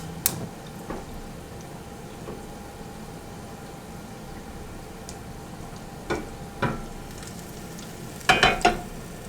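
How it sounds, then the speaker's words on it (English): Sliced bananas caramelize in a frying pan with a soft, steady sizzle, punctuated by occasional utensil taps and a cluster of sharper clinks near the end. "So that we can actually watch the caramelization of the bananas"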